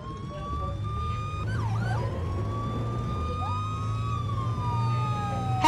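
A police car siren from the Brick Rigs video game wails in high-speed chase mode, rising and falling tones sweeping over a low engine drone and holding loud and steady throughout.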